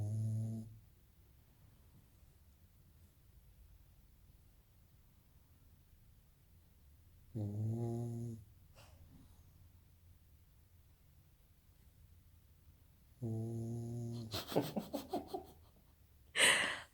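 A pug snoring nearby in three separate bursts spaced several seconds apart, each a short, throaty, rattling snort, with the last one louder and harsher, and quiet breathing filling the gaps between them.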